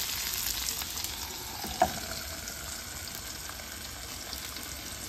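Long-sliced tomato cooking in a pan for bharleli vangi, a quiet steady simmering sizzle with one brief clink partway through.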